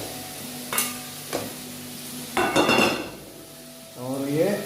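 Potatoes fry in a hot pan and get stirred, with clinks and scrapes of a utensil against the pan over a steady sizzle, several short clatters spread through.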